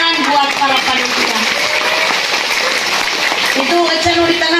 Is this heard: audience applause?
yes